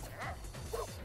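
A dog barking in the video game Tokyo Jungle, two short quiet barks amid faint gameplay noise and a soft crash.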